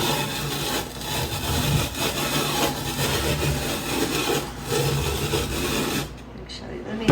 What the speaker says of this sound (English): We're gonna get them grated up and in the pot with this fancy schmancy little grater thing